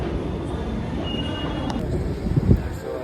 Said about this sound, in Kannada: ಮೆಟ್ರೋದಲ್ಲಿ ಹೋಗ್ತಿದ್ದೀವಿ.